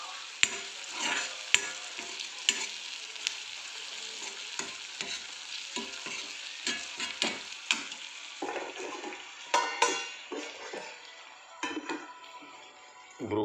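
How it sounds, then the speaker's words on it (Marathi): Broccoli fried in a pan crackles with a steady sizzle while a spatula stirs and scrapes in repeated irregular clicks and knocks, close and fairly quiet, without talking. "आता आपण याच्यामध्ये ब्रोकली ॲड करून घेऊया"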